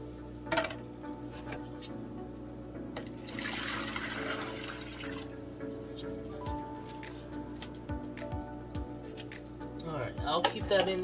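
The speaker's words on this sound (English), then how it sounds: "getting water from my fish tank and just pouring it in" Aquarium water poured from a pitcher into a bucket, splashing and trickling in a short burst midway through, with scattered drips and light handling sounds and a voice in the background.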